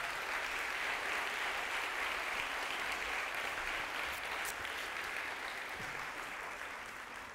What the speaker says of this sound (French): On peut les applaudir tous très fort